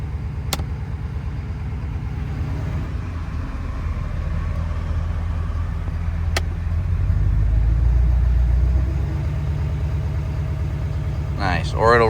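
A Ford 6.7 Powerstroke diesel truck engine holds a steady, raised idle, a continuous low rumble that is close and moderately loud, with a slight swell partway through and a few brief clicks.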